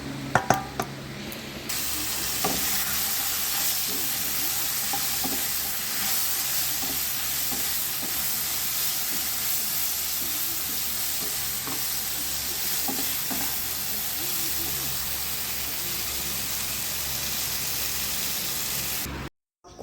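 Taro stolons (kochur loti) coated in salt, turmeric, cumin and chilli powder hit hot oil and fry with a steady, close sizzle, with scattered clicks of stirring throughout and the sizzle cutting off abruptly near the end.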